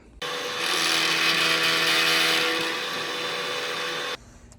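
A power machine takes a light cut across the top of a wooden block being squared up, a steady whining run that swells slightly in the middle and stops abruptly near the end, with no talking.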